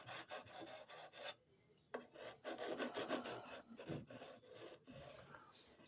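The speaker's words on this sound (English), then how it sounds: "I'm using a piece of wood here with some 80 grit sandpaper" 80-grit sandpaper on a wood block rubbed along guitar frets, a close, quiet rasping scrape in repeated back-and-forth strokes with brief pauses.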